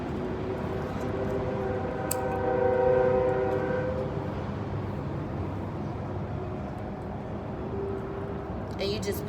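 A train passes outdoors in wind, with a horn-like tone rising and fading in the middle over steady rumbling and wind noise.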